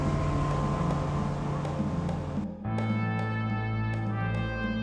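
Motorboat travelling up the Yukon River; a close, steady engine hum shifts down in pitch partway through, then continues droning evenly under wind.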